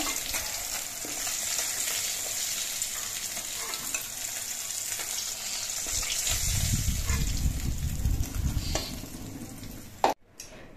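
Bhola fish fries in hot oil in a wok, a steady close sizzle that swells into louder bubbling crackle partway through before a sudden clunk near the end.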